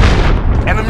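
A cruise missile blast from the video game Call of Duty: Modern Warfare, played in a Domination match: a dense, rumbling low boom that fills the whole second, with game voice chatter layered over it.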